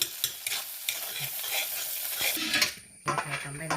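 A spoon scrapes and stirs chitranna masala into cooked rice in a pan, steady close clattering and soft hissing over nearly four seconds, ending in a few sharper scrapes.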